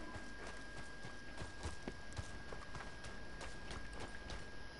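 In the video game Red Dead Redemption 2, a horse's hooves clip-clop in a steady walking rhythm, faint and continuous, with no talk over them.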